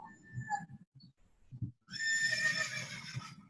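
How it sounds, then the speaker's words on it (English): A horse whinnies clearly in the background for over a second after some faint low thumps, with the sound picked up from a distance during an online meeting. "I heard a horse in the background"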